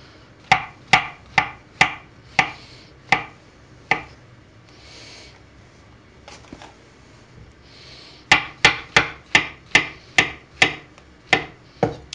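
A kitchen knife trims the end off an ingredient while prepping beef stroganoff, making crisp, close chopping knocks on a cutting board in two quick runs of about eight cuts with a quieter pause between, and no talking.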